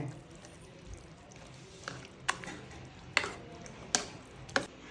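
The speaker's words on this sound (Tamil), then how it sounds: "அப்படியே அந்த கெட்டி தயிரில் நல்லா கலக்கிக்கலாங்க." Sautéed beetroot being mixed into thick curd in a bowl, heard as a quiet run of soft, wet stirring with a handful of sharper spoon taps spaced about a second apart, close up and with no talking.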